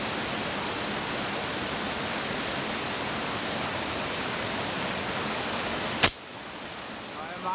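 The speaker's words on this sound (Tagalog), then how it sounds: "nandito tayo sa waterfalls" A waterfall pours at night, heard as a loud, continuous broadband roar that cuts off abruptly near the end and leaves quieter background. No voices are heard.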